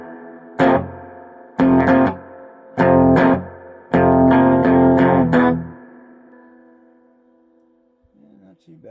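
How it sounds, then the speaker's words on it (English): Electric guitar through an Ibanez Iron Label amp: chords ring out in several spaced strums, then a quick run of hits, each washed in reverb set at half that trails off into a long fading tail. "Okay, we'll go half on the reverb."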